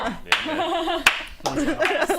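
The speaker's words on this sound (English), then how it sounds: "clap in the Slow corner. clap." A few slow, widely spaced hand claps ring out over people talking nearby.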